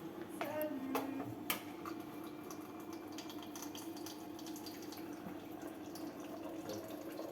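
Water running from a tap, a soft continuous flow with a few drips and small clicks, heard faintly in a quiet room.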